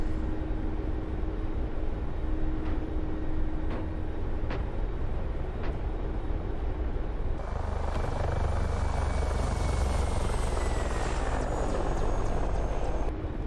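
A Mi-24P Hind attack helicopter in the DCS flight simulator gives a steady, loud rotor and turbine drone throughout, with a few sharp clicks early on and a denser, rising engine roar in the second half.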